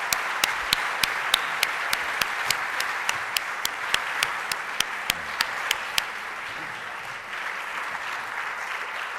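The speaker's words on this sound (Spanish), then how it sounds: "Muy bien, venga, un aplauso." An audience applauds after an economics lecture, a full steady patter of many hands with a series of sharp, evenly spaced louder claps near the front during the first six seconds, then the clapping continues on its own.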